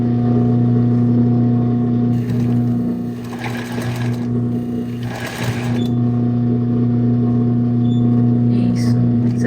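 A sewing machine stitches fabric during a sewing lesson, its motor giving a steady, close whirring hum that runs throughout, broken by a couple of brief noisy bursts.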